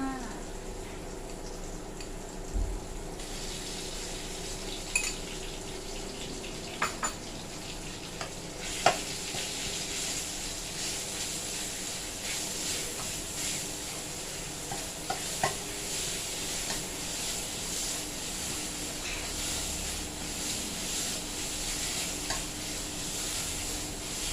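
Minced pork sizzles steadily in a hot pan for northern Thai nam prik ong, with scraping stir strokes and occasional louder clacks of the spatula over a constant frying hiss.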